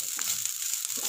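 Ingredients for a cucumber poriyal fry in hot oil with a brief, bright sizzle and a couple of soft stirring knocks.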